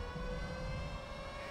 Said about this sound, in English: sorry if the siren's blasting your ears.